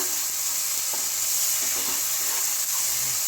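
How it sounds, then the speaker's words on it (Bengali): Spice paste seasoned with Kashmiri chilli powder fries in a pan for a Bengali bhetki kalia, giving a steady, close, bright sizzling hiss with faint crackles and no voices. "মশলাটা ভাজা ভাজা হয়ে গিয়েছে"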